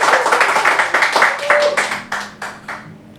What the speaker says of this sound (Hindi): खुल के बजा लो तालियाँ।